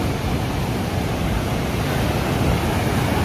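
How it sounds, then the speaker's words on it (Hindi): Water rushes continuously over rocks inside Kotamsar cave in the Kanger Valley, a dense, steady roar close by with no breaks or voices. "यहाँ से आ रहा पानी।"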